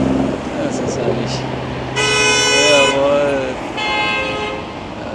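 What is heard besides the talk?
car horns honking in city traffic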